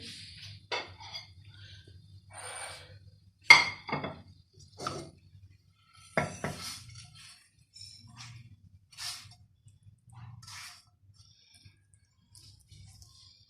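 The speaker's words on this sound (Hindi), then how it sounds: "अब मैं इसको किसी बर्तन में निकाल लेती हूँ।" Cooked food for a chicken sandwich is moved into a serving dish, with scattered metal utensil clinks and scrapes against cookware at irregular intervals, some louder knocks, in a quiet home kitchen without talk.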